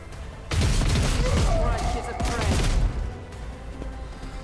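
A barrage of gunfire from Argenta in the Warhammer 40k Rogue Trader game: a dense burst of booming shots and impacts lasting a couple of seconds, then tapering off into quieter rumbles.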